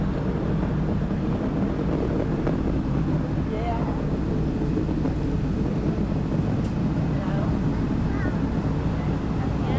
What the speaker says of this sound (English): Three engines on Discovery are now throttling down to 2/3 throttle